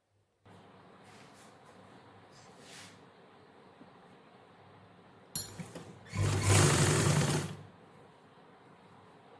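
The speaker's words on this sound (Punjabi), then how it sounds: "ਤੇ ਹੁਣ ਆਪਾਂ ਚੱਲਦੇ ਆ ਸਟਿਚਿੰਗ ਵੱਲ" A sewing machine stitches a pocket onto a pyjama, with quiet handling first, then a short loud whirring run of needle stitching close by near the end.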